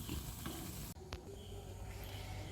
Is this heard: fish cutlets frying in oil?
yes